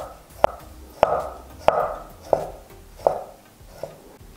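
Six crisp, evenly spaced knife cuts thinly slicing pickled cucumbers on a cutting board, close and fairly quiet, with no talking.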